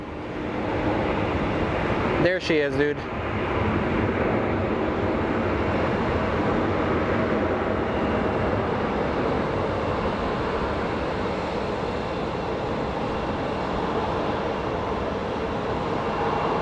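Steady, loud roar of an Airbus A350-1000 airliner taxiing after landing at Sky Harbor Airport, a continuous broadband rumble, with a short spoken remark near the start.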